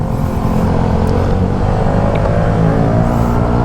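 A 2024 Suzuki Raider FI motorcycle engine runs at a steady idle up close, a constant loud buzzing hum with no revving, and no voices.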